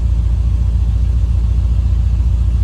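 A 1984 Chevrolet Corvette engine idles steadily up close, a loud, even low rumble with a smooth pulsing throb and no talk over it.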